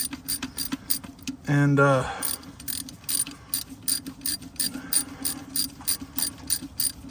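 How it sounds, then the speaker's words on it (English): Ratchet tightening plugs on a Detroit 60 Series ECM in a Freightliner Classic XL, close, rapid clicking strokes in short bursts around a brief tonal squeal, with a single spoken word. "Then comes the work of the tightening the plugs, putting them in,"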